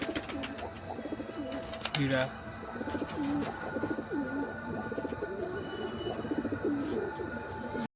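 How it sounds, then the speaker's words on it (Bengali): Pigeons in a loft coo repeatedly at dusk, a series of soft rolling calls close by, with someone speaking briefly over them and a few sharp background clicks. "পায়রাগুলো ডাক দেখুন"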